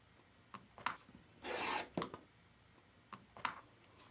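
A rotary cutter slices quilting fabric along an 8.5 inch ruler, giving a single brief rasping cut in the middle framed by a few light taps and scrapes, close and quiet with no talking.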